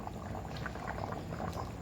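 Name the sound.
fish curry boiling in pot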